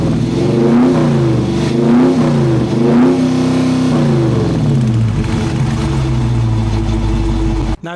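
From behind a Dodge Challenger R/T, its V8 engine revs repeatedly in loud, close bursts up toward the rev limiter, each blip rising and falling before the engine settles into a deep idle.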